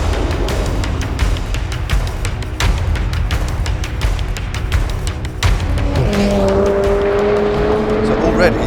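A 2017 McLaren 720S accelerating hard on a race track, engine roaring loud and close with a rising pitch through the gears, brief shift breaks, and a sustained higher whine toward the end.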